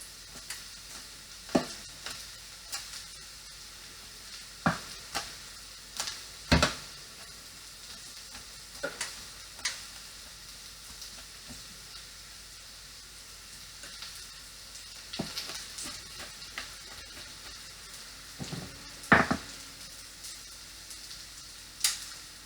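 Onion sizzles steadily in a hot frying pan, a low continuous hiss broken by scattered louder clicks and pops and occasional stirring scrapes, close and moderately loud, with no talking.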